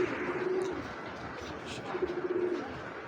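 Up close, a racing pigeon gives two soft, throaty coos, one near the start and another later, over faint room background.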